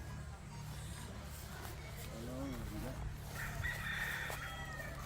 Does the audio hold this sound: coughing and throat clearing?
no